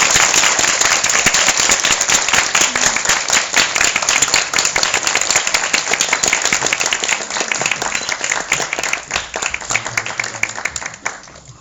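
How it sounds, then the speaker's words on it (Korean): Loud, dense applause fills a theater as actors walk onstage for a film event, the clapping sustained throughout and tapering slightly at the end. "큰 박수로 맞이해"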